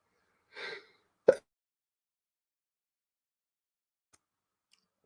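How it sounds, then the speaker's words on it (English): A man sneezes once: a short breathy intake, then a sharp explosive burst close to the microphone, followed by near silence with only a couple of faint ticks. "I got to sneeze"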